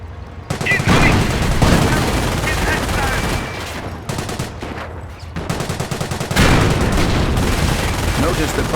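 A Panzer tank in Company of Heroes fires amid heavy combat: loud booming shots and rattling gunfire that stay dense almost the whole time, with a short quieter stretch in the middle before a fresh roar.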